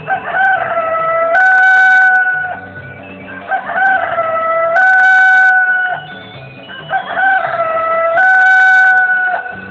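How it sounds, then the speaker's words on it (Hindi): A rooster crows loudly and close by, three long drawn-out cock-a-doodle-doo calls in steady succession, each clear and strident with brief pauses between. "सुबह होते ही सबको जगाता है मुर्गा"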